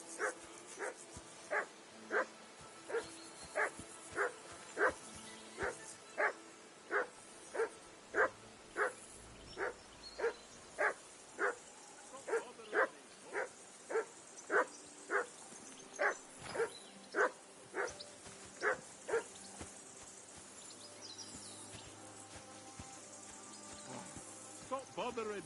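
In the Kingdom Come: Deliverance 2 video game, a dog barks in a steady, evenly spaced series of about two dozen sharp yaps, fairly close. A voice speaks briefly near the end.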